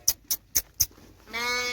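Farm goats and sheep: a few sharp, evenly spaced taps come first, then one drawn-out, wavering bleat rises nearby and holds to the end.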